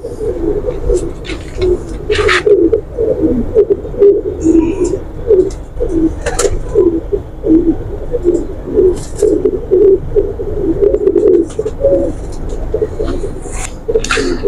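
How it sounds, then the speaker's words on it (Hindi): Several Heera Lal breed pigeons coo continuously in low, rolling murmurs close by, with faint chirps and some background noise. "ये हीरा लाल कबूतर है।"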